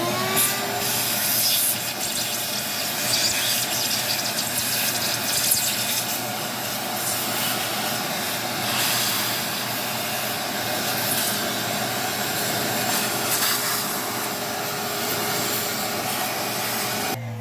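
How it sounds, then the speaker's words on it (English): A loud shop vac roars steadily while vacuuming dust off a box fan motor, a dense continuous whine with small shifts in pitch as the nozzle moves. "The shop vac is going to be very loud."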